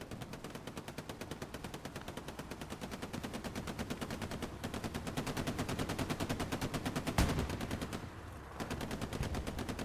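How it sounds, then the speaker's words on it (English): Sustained rapid machine-gun fire rattles on in a WWII shooter video game match, dense and continuous with a heavier bang near the end. "Just shooting down this road."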